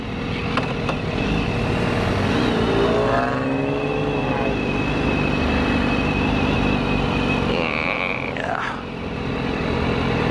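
A BMW S1000RR motorcycle rides through traffic with a steady, close engine drone and wind rush, shifting pitch with a few revs and other vehicles passing nearby.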